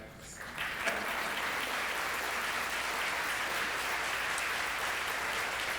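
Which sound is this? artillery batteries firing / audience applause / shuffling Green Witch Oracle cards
audience applause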